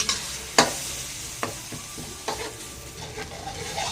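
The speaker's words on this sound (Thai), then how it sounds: "ผัดเครื่องแกงให้หอมเลย" Thai curry paste is stir-fried in a little oil in a home kitchen, with a soft, steady sizzle under sharp scrapes and clacks of the spatula against the pan.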